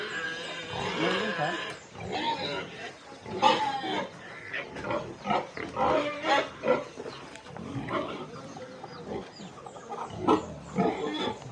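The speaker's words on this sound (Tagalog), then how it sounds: "Ang gaganda ng baboy, yung lalaki." Pigs on a small farm in Tanay grunt and oink close by in a run of irregular, overlapping snorts and squeals, moderately loud with short pauses between bursts, no talking.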